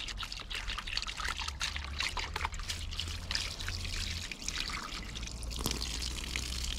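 A gold pan full of water is shaken while panning crushed material, making a continuous close sloshing and trickling swirl of water with small splashes throughout.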